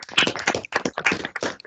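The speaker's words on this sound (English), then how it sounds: "Round of applause." A few people clap briefly at the close of an online conference session, a quick cluster of close, crisp hand claps at uneven spacing with no talk.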